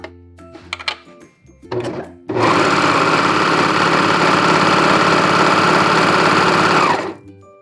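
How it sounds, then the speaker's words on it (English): A serger overlocks the edge of knit fabric to make a lettuce hem, starting after a few handling clicks and running as a loud, steady mechanical whir for about five seconds before stopping. "put the edge of our fabric into the serger and go ahead and serge the edge"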